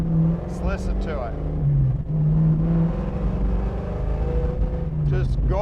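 A 1969 Ford Mustang Fastback's engine runs from inside the car, a deep, steady rumble that swells with revving and gear changes while someone talks over it.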